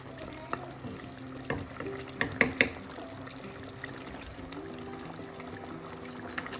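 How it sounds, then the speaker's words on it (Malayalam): Pepper chicken is stirred in a sizzling pan, with steady frying hiss and several sharp clinks and scrapes of the spoon against the pan, loudest in a quick cluster near the middle. "എല്ലാം ഇളക്കി"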